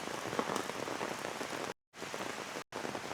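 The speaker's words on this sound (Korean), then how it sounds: "오늘 비가 너무 많이 와서" Heavy rain pours steadily on a park, a dense, even hiss of drops on surfaces that fills the whole clip, broken by two brief dropouts of silence.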